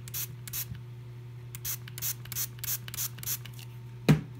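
A small spray bottle mists water onto a compressed eco-friendly toilet paper tablet in a series of short, quick hissing bursts, close and fairly soft, ending with a sharper knock; no voices.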